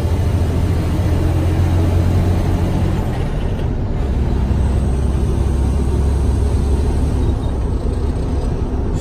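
A 2009 Freightliner Cascadia 125 semi truck accelerating, its engine producing a loud, steady diesel roar with deep low rumble that continues unbroken throughout, heard close up.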